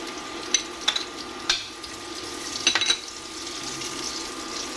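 Garlic for beef tapa frying in a pan, a soft steady sizzle with a few sharp clicks and scraping stirs scattered throughout, fairly quiet and close.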